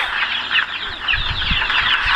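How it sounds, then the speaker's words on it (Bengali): Young local chicken chicks about one and a half months old cluck and chirp close by in a steady stream of small calls, with no talking. "আমার এই লোকাল মুরগির বাচ্চাগুলো দেখতেছেন"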